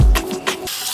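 Tap water runs briefly into a bathroom sink while shaving is being set up, a short close splashing gush with a couple of surges before it cuts off, no talking.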